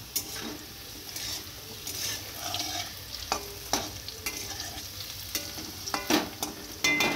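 Potatoes frying in a pan, a soft sizzle punctuated by frequent stirring scrapes and sharp clicks of the spoon, close and fairly quiet, without talk.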